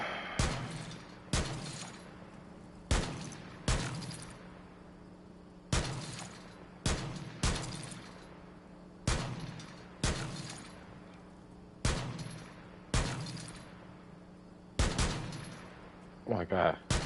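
Gunfire in Rainbow Six Siege rings out in about a dozen sharp, loud bursts spaced a second or two apart, each cracking hard and decaying quickly over a low steady background hum.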